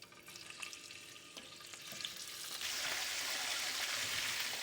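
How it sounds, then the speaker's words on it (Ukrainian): A steady crackling sizzle of chicken frying in a pan, starting softer and swelling louder partway through, with no voices. "Для початку нам треба обжарити курочку."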